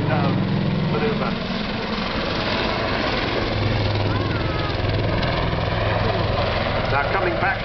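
Helicopter engine and rotor drone holding a hover at the centre of an air display, a steady loud wash over a continuous low hum, with a commentator talking over it throughout.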